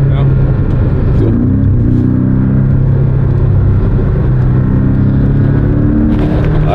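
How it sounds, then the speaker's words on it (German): Abarth car drifting around a wet race track at Bilster Berg in the rain, a steady loud engine drone with shifting revs throughout, while people talk over it. "Da geht's schon mal direkt in den Drift hier."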